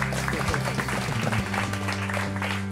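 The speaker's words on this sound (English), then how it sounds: "Let's give them a round of applause, please, ladies and gentlemen." A studio audience claps to welcome guests onto a consultation show, with a dense stretch of applause mixed with voices talking over it.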